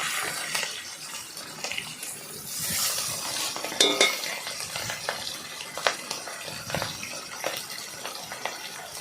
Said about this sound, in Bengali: সেই জন্য অল্প অল্প করে ভেজে নিলাম মাছটাকে